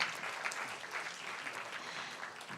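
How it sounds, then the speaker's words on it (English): Steady applause from an audience at a startup competition event at BINUS University, filling the whole stretch at a moderate, even level with no voices standing out. "Please give Mr. Carson a big round of applause."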